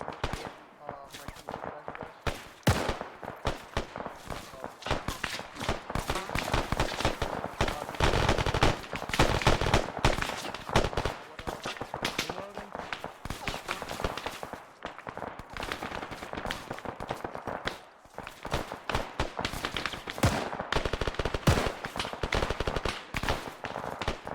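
Gunfire rattles through a military training session in the video game Arma 3, dense bursts of rapid rifle and machine-gun shots with scattered single cracks, near and far, under intermittent radio-style talk.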